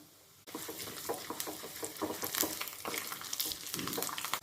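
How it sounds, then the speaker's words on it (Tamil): Mustard seeds, urad dal and chana dal frying in hot oil, a sudden dense crackling and popping sizzle that starts abruptly and stays loud and busy throughout. "கடுகு பொரிஞ்சு உளுந்தம்பருப்பும் கடலைப்பருப்பும் கலர் வரட்டும்"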